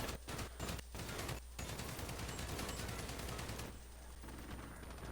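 An SA87 light machine gun in a video game emptying a 50-round magazine, heard as sustained rapid automatic fire in short bursts and then one long unbroken stream, dense and continuous with brief gaps, no voices.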